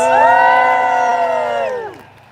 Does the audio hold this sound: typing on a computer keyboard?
no